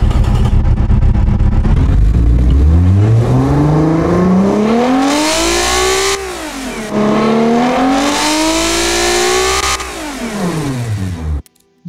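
A racing car engine in the Automation car-building game revs loudly and continuously, rising in pitch, dipping briefly, then climbing again before cutting off abruptly at the end, alone without talk.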